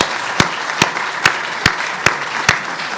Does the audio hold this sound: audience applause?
yes